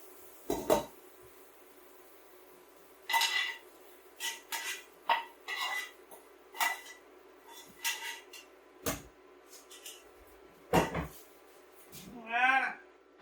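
Pot and cooking utensils clink and clatter in sharp, scattered bursts as peanut-spinach sauce is poured over vegetables, with a short tonal scrape near the end and faint speech in between.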